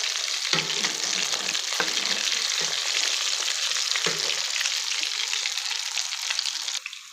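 Pinwheel bites frying in hot oil in a pan, a dense, even hiss of bubbling close by with a few soft knocks of utensils, no voices, fading slightly at the end.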